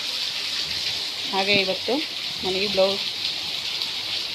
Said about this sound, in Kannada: ನೋಡಿ, ಮಳೆ ಬೇರೆ ಬರ್ತಾ ಇದೆ